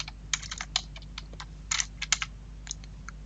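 A computer keyboard is typed on up close: quick, uneven clusters of crisp key clicks over a low steady hum while a template name is entered in Word, with no talking.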